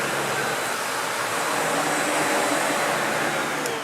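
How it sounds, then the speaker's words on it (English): Sebo Felix upright vacuum cleaner running continuously, a loud, steady broadband whoosh of motor and airflow heard close up. "Turn off the vacuum, turn it back on."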